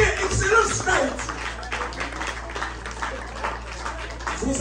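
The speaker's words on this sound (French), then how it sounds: "Et je vous demande de vous applaudir parce que vous avez choisi l'Université Excellence d'Haïti." University students applaud at the opening of an academic year in Haiti, scattered clapping that rises and falls while voices talk over it.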